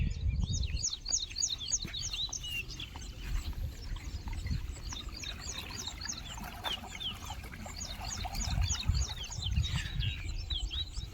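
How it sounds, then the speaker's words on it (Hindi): Morning birdsong on a farm field, many small birds chirping and trilling at a moderate distance, in steady overlapping bursts over low rustling and wind-like rumble outdoors. "चिड़ियों की चहचहाहट"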